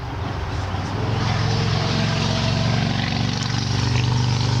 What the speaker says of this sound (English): That motorcycle always goes by and is very loud.